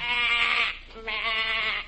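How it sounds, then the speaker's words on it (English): Two drawn-out sheep bleats, each under a second long with a short pause between, sound close and clear as a sound effect in an old-time radio comedy. "I noticed a row of cattle ships all loaded with sheep."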